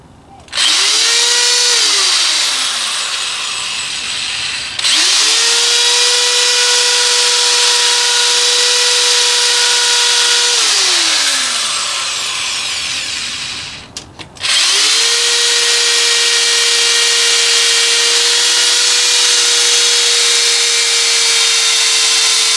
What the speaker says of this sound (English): Right now I'm just going to drill these holes